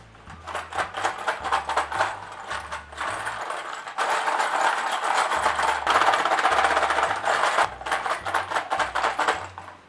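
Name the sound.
snail shell shaker being shaken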